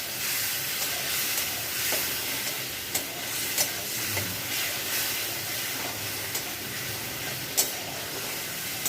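Ginger paste, tomato, cumin, salt, turmeric and chilli powder sautéing in a pan, giving a steady close hiss and sizzle with occasional soft clicks of stirring.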